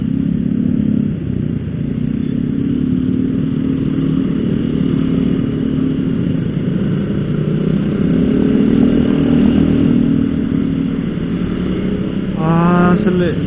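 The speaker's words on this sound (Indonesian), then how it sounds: "Bisa-bisanya motor" A 125cc motorcycle engine roars steadily at high speed for the whole stretch, a loud continuous drone, with a brief rattling clatter near the end.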